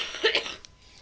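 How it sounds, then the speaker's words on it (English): A single short cough bursts out close by during a lecture, followed by a quieter catch of breath in an otherwise quiet room. "excuse me for the coughing"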